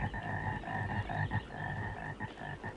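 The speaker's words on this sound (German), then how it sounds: "Der ganze Park ist voller Frösche." A dense chorus of frogs croaks in a park, layered rhythmic calls pulsing continuously at moderate distance and fairly faint, with no voices present.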